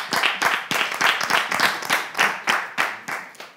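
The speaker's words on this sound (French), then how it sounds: "Merci d'applaudir et d'accueillir ici Alagbe, s'il vous plaît." Audience applause welcoming the fourth candidate onto a televised contest stage, a steady wash of many hands clapping in pulsing waves, fairly close and loud, with no voices over it.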